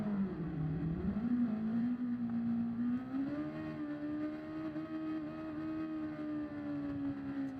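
Car engine in Gran Turismo 7 reversing slowly, a low steady drone that rises a little in pitch and then holds a constant strained whine, fairly quiet and with no talk over it.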